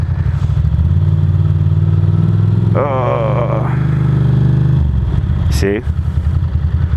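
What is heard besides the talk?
Ducati Monster motorcycle accelerating after releasing the clutch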